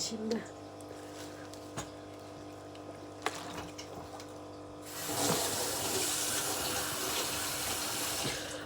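Water gushes steadily from a tap in a workplace kitchen, starting after a few seconds of quiet room tone with faint voices and continuing at a constant level.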